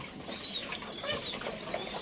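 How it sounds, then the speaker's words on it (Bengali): Pet pigeons kept in a covered home loft, soft close cooing and rustling with a faint flutter of wings, low and continuous over a brief stretch. "আমি খুব যত্নের সাথে আমার এই কবুতরগুলা লালন পালন করি"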